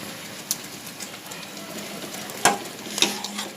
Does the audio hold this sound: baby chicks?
no